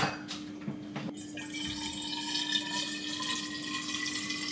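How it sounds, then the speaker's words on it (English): A water bottle is filled at a tap early in the morning, giving a steady, faint hiss of running water with a rising tone as it fills, preceded by a few light knocks of handling. "I'm going to go fill up my water bottle with water."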